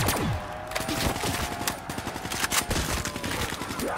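Rapid automatic gunfire from Black Ops 3 Zombies on the Giants map, dense bursts of shots crackling almost nonstop for several seconds, loud and close with game sound effects mixed underneath.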